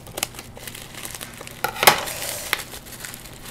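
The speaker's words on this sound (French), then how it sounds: "Hop, je vais essayer d'ouvrir ça." Plastic packaging of the Mind Maze Oracle card game being opened, close crinkling and crumpling with a few sharper tearing bursts.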